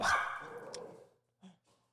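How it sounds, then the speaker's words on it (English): A small dog lets out one sharp, loud bark that rings off, followed by a couple of faint softer yips. "That's little Abby barking."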